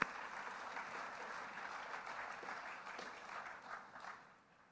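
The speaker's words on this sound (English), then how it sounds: "Thank you, we should clap." Steady applause from the audience at a State of the City address, a soft, distant wash of many hands clapping that tapers off at the end.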